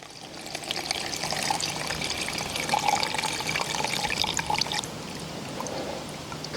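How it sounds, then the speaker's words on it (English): Liquid plantain tincture drained through a fine mesh strainer, a steady close trickle and patter of liquid running for several seconds before easing slightly toward the end. "strain the tincture from the vegetation using this handy dandy little fine mesh strainer"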